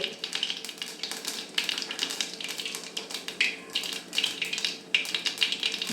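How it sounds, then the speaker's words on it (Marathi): Mustard seeds and cumin sizzle in hot oil for a Maharashtrian green chilli gawar dish, a dense, continuous crackle of rapid pops and hiss close by, with no talk over it. "पूर्ण मोहरी मात्र फुटूनच द्यायची प्रत्येक वेळेस. आता बघा त्याच्यानंतर थोडंसं जिरं,"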